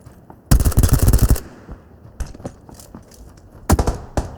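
Rapid automatic gunfire from a shooter video game, a loud sustained burst followed by scattered shots and a final close burst, with no talking over it.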